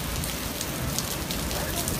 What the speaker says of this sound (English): Look at this rain, everybody.